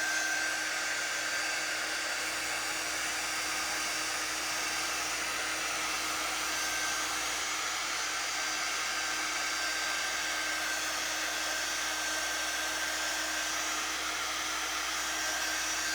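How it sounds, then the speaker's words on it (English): A handheld heat tool blows warm air to dry a freshly applied transfer, giving a steady, loud, even whoosh with a faint high whine that carries on without a break and with no talk. "And this heat tool, it's warm air."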